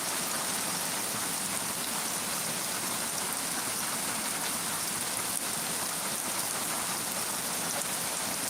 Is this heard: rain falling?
yes